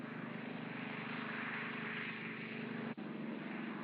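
Curtiss seaplane engines during a takeoff run roar steadily with a low droning hum, loud and continuous with a momentary dip near the end, no voices heard.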